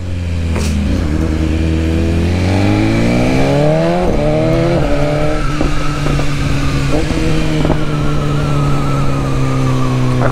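On smooth asphalt at a traffic light, a motorcycle engine revs hard for a wheelie. The engine note climbs through rising gear sweeps and then settles into a steady high drone, loud and close.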